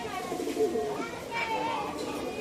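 A pigeon coos softly at a busy market, its low warbling calls rising and falling under nearby talk and children's voices.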